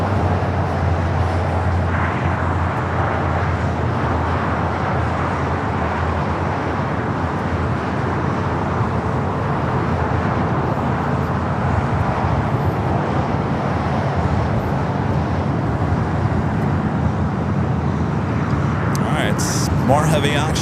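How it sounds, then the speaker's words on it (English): Boeing 787-9 Dreamliner at LAX, a steady broadband jet roar that holds loud and even for about twenty seconds under light voices at the airfield. "787-9 Dreamliner up next."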